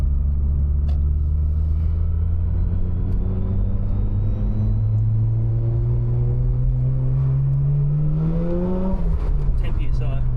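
A turbocharged Mazda RX-8 running flex fuel drones steadily from inside the cabin as it drives, its engine note climbing slowly while revving, then dropping off near the end, with people talking over it.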